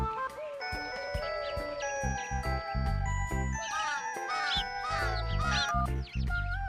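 A cartoon crow caws in short, curling calls over bright tinkling jingle music and punchy percussive hits, all at close, full volume with no voices.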